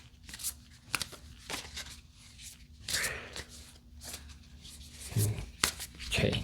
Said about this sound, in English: they shuffle just like regular cards